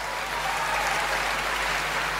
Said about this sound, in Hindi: आशीर्वाद दे सकते हो ताली बजा के ऐसे करके